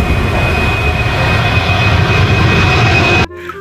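A toy airplane plays a loud, steady recorded jet-engine roar with a high whistling tone, continuous and close, ending abruptly before a short quieter tail.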